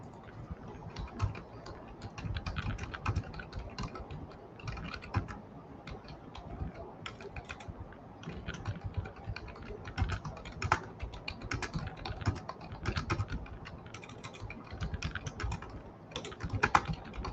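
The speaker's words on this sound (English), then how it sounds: "I'll type it in chat." Steady typing on a computer keyboard fills the whole stretch, rapid uneven clicks in bursts with short pauses, close and fairly quiet against a faint background hum, with no voices.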